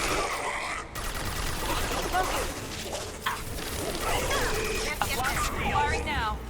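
Gunfire in Mass Effect Legendary Edition: a dense stream of shots and impacts runs steadily through the whole stretch, with game effects layered in and someone talking over the top.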